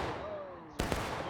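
A musket volley fired by an infantry company in the Civil War game War of Rights on the Pry House map: a sudden loud crackling blast of many guns at once, rolling briefly after a quiet hum.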